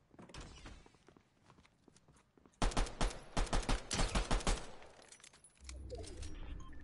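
Rapid bursts of video game gunfire crackle in a dense volley, with quieter scattered shots before and after it, mid-distance and fairly loud.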